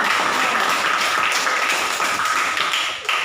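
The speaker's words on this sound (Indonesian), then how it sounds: "Hebat kalian, tepuk tangan dong." A class of students claps hands in a classroom, a loud, dense and continuous patter that fades slightly near the end.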